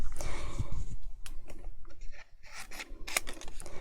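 Scissors cut a pumpkin shape out of Halloween pattern paper, making a run of close, crisp snips and rustling paper cuts in irregular bursts.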